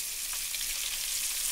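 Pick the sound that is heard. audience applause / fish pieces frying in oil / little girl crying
fish pieces frying in oil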